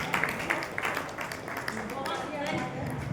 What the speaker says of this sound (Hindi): जोरदार तालियों के साथ मैम ने बहुत सुंदर रचना